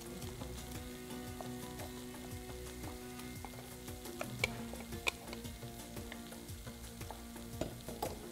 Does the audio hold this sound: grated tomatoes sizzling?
yes